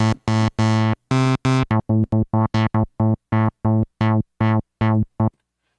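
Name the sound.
Future Retro Vectra synthesizer playing its init patch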